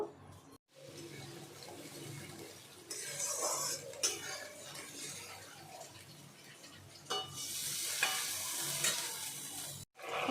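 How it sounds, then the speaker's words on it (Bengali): A paste of ginger, cumin and chili fries in hot oil while being stirred for a bhetki fish curry, giving loud close sizzling with scraping spoon strokes that swell and fade, broken by brief silences. "এবার মশলাটা ভালো করে কষিয়ে নেব"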